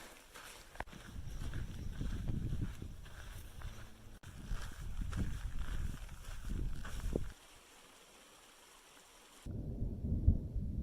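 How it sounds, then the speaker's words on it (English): Far-off thunder rolls in low, soft rumbles over a mountain campsite on the Colorado Trail, mixed with close rustling and shuffling, then fades before a last faint rumble. "A little thunder, but it was very far off."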